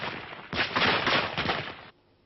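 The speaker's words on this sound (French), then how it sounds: "Une mitrailleuse Bren" A British Bren machine gun firing in combat, heard as a distant, muffled burst of rapid automatic fire lasting over a second, from an archival recording of fighting in Angola.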